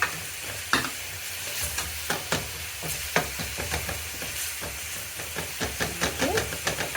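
Kebab frying with garlic in a pan, giving a steady hissing sizzle broken by frequent sharp clicks and scrapes of stirring, close and moderately loud, with a faint voice now and then.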